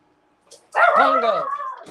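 A leashed dog gives a soft whine, then one loud, close bark that trails off into a yelping whimper.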